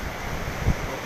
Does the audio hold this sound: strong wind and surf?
yes